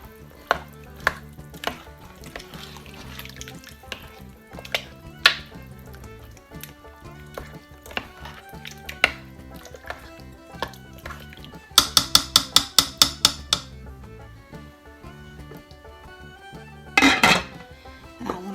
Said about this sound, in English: I'm going to give this a good stir.